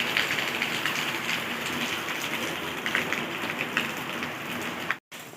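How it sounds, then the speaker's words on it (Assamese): Steady rain falls outdoors during bad weather, a dense continuous patter on surfaces with scattered louder drops, cutting off briefly near the end. "এইফালে এয়া বৰষুণ দি আছে।"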